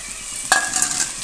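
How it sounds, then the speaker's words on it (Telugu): Garlic and tempering seeds crackle in hot oil, a sharp clink then a steady close sizzle with small pops, no voices. "వెల్లుల్లి వేసుకొని లైట్గా వేగిన తర్వాత తాలింపు గింజలు వేసుకున్నాము."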